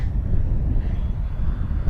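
An FMS F7F Tigercat 1700mm RC model airplane with twin brushless motors flies past over an uncut grass field, a continuous buzzing drone with wind rumble, fairly loud and close, no talking.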